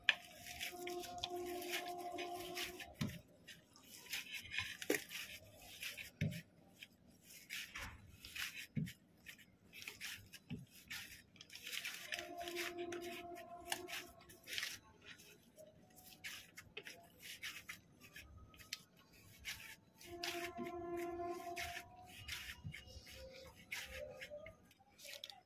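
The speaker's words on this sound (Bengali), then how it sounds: "হাতে ঘি লাগিয়ে নিয়ে সুজির এই ডোটাকে আমি 10 মিনিট ভালো করে মেখে নেব" Semolina dough being kneaded by hand with ghee for date-palm jaggery rasgulla, giving soft repeated squishing and pressing sounds in an irregular rhythm, close and fairly quiet, with faint background noise and no talking.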